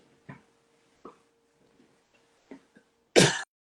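A person with a mild viral illness coughs in a quiet room: four short, soft coughs spaced apart, then a final louder, harsher burst.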